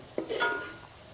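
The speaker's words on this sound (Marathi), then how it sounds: "मस्त मस्तपैकी आपण या प्लेटमध्ये काढून घेऊ बरं का" Malvani-style masala bhaji made with fresh cashews is served onto a plate, giving one short metallic clink and a brief scrape of a spoon against the dish, faint and quick.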